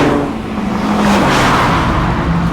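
A 2016 Mazda MX-5 Miata drives along a narrow rural Scottish C road, its engine humming steadily with shifting pitch under loud wind and road rush, heard from inside the car with no one speaking.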